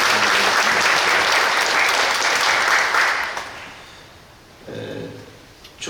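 A church congregation at a Korean pilgrimage-route chapter launch service claps loudly and steadily for about three seconds, then the applause fades, followed by a short burst of room noise.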